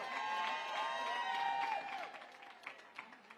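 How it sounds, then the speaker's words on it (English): A crowd at a Hispanic Heritage reception hosted by the New York City mayor breaks into applause, loud at first and then thinning into scattered claps and a few cheers as it fades. "Let's give them a big round of applause."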